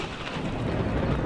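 A thunderstorm at sea in The Witcher 3, with a dense, continuous roar of heavy rain and a deep thunder rumble filling the whole stretch, no voices.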